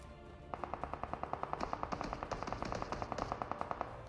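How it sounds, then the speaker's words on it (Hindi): Rapid automatic gunfire in the video game PUBG rattles off as a fast, evenly spaced burst of about thirty shots lasting over three seconds, fairly faint and distant in the mix. "अब आप लोगों को फायरिंग का साउंड आ चुका होगा"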